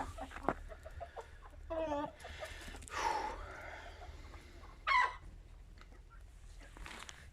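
Aseel and Shamo hens cluck in short, scattered bursts against a quiet farmyard background, with a few louder calls standing out now and then.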